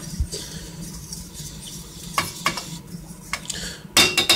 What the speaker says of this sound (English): sauce is ready, so we'll just stir it up a little bit more